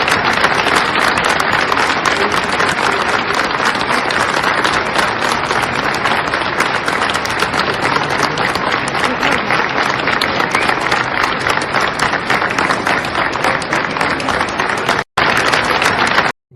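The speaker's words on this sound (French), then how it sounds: "Pareil, hein, les applaudissements." Dense, sustained applause from a large crowd at an emotional memorial march in France, loud and continuous throughout with no break until a brief dropout near the end.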